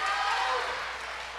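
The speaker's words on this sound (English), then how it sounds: "Crowd's starting to make a little bit of noise here." Crowd noise rising at a women's basketball game, a broad wash of cheering and clapping that stays fairly steady, heard a little way off.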